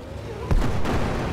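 A single sharp gunshot-like boom in the video game Brick Rigs lands mid-clip over a steady background rumble, with no voices.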